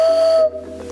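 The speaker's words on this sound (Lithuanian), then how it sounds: "Truputėlį švilpia ir dabar bandysiu sureguliuoti" A traditional Lithuanian hand-made whistle being tested gives one steady, clear, shrill tone for about half a second, then drops to a quieter, breathier whistle with hiss.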